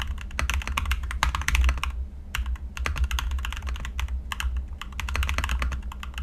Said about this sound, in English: Anyway, here's a sound test with my own RK61.